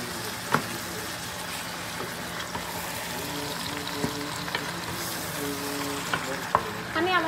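Meat frying in a pan while being stirred, a steady sizzle with scattered scraping and clinking stir sounds, close and moderately loud, with no talking.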